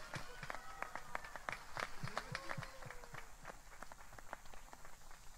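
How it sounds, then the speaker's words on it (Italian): Sparse, uneven clapping from a small audience after a piano concert in Noale, with individual claps standing out, quiet and somewhat distant, while voices murmur underneath. "Un applauso a questo grande pianista che stimo tantissimo"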